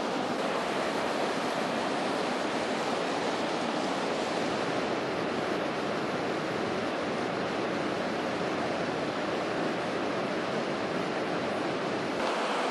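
Running water from a stream at a wilderness campsite, drawn from a flowing section rather than a stagnant pool; a steady, loud broadband rush continues without pause and with no talking.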